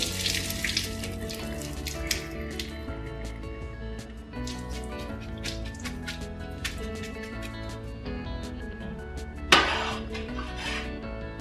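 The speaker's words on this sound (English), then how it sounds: "going to go ahead and drain these out over the sink." Cooked noodles are drained over a kitchen sink with a steady rush of running water and splashing, close and continuous, with clattering metal or dishware and a sharp clank near the end.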